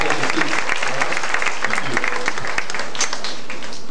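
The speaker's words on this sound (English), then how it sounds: "All right, big round of applause for you guys." Audience at a school award ceremony breaks into loud, continuous applause, many hands clapping in a dense, bright wash, with voices and cheering mixed in among the crowd throughout.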